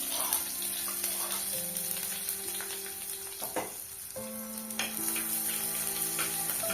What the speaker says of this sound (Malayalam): കടുക് പൊട്ടിയതിന് ശേഷം നമുക്ക് ചുവന്നുള്ളി ചേർക്കാം.